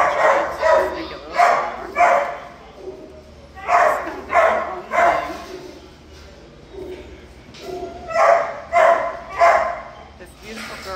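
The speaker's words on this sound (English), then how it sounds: "Other dogs barking, carrying on." Dogs in animal shelter kennels at Animal Care Services in San Antonio, Texas, bark and yip in repeated bursts across the clip, several voices overlapping at moderate distance.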